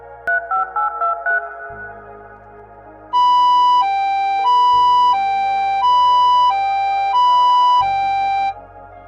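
An ambulance siren wails in a loud, clean two-tone pattern, preceded by a few short electronic beeps, alternating high and low pitches steadily with no voices.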